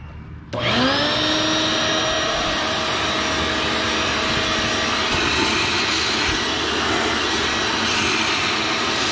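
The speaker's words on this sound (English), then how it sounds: "I'm gonna go ahead and use my shop vac." A shop vac starts abruptly and roars steadily while vacuuming out a rear differential housing, its motor whine rising to a constant pitch, with slight changes as the nozzle moves.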